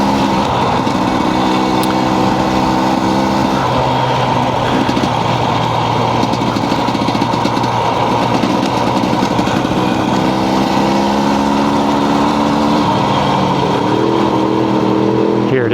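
A dirt bike engine runs steadily on a trail, a loud continuous buzzing drone with shifting pitch as the throttle changes, with another engine note layered in and some wind noise.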